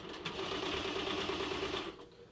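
An embroidery machine stitches 3D puff embroidery over foam in light blue thread: a rapid, steady mechanical chatter close by that runs for about two seconds and then stops.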